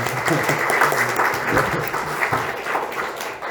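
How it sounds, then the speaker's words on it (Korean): Congregation applause at a Sunday church service, a steady wash of clapping from a crowded room that holds at one level throughout, with faint murmuring voices underneath. "우리 잘 인도해 주신 우리 주의자님한테 수고했으니까 박수 한번"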